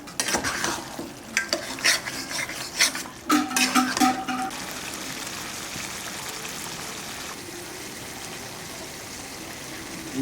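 Mutton sautés in a cooking pot as a spoon stirs it, giving a few scraping, clattering strokes early on over a soft, continuous sizzle that settles into quiet frying.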